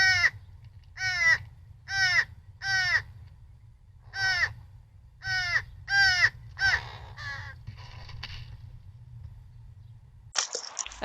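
A series of loud, harsh crow caws repeating in bursts, several in quick succession, over a low steady rumble, followed by a brief noisy rustle at the end.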